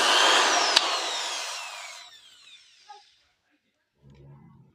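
A repaired 10mm electric drill machine whirs loudly up close for about two seconds, then winds down and coasts to a stop, followed by a few small knocks and a brief low rumble.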